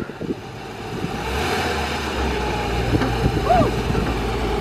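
A Porsche GT3 RS supercar drives up with a steady engine rumble that swells and grows louder as it nears, with brief voices and a short squeal over the car.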